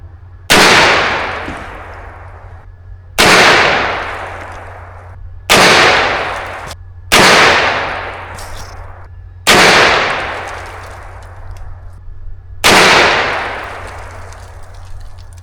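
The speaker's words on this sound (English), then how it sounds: "Let's go 5 rounds on the bottom." Five gunshots fired at a target on a range, each a loud, sharp report with a decaying ring, spaced a few seconds apart and heard alone.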